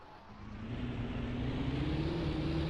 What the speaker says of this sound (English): This thing's got a little bit of a deep exhaust tone.